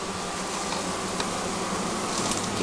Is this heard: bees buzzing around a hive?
yes